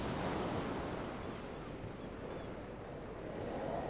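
Storm waves and wind roar at sea in Sid Meier's Pirates!, a steady, full wash of surf and gusting noise that holds throughout with no voices.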